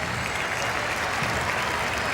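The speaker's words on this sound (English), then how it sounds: "And now another stirring round of applause for the color guard as it departs through the center field gate" Stadium crowd at Shea Stadium applauding the departing color guard at a baseball game, a dense, steady roar of distant clapping from thousands filling the whole stretch.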